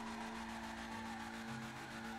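Sustained tire skid from an Ubermacht Rhinehart sedan in GTA 5 Online, a steady loud screech with engine drone running unbroken throughout and no talking.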